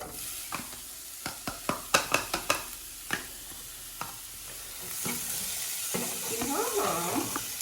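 Chopped shallots go into melted real butter in a hot pan over medium heat, first with a series of sharp clattering scrapes and taps of a utensil, then a rising, steady sizzle as they fry, with a voice speaking over it.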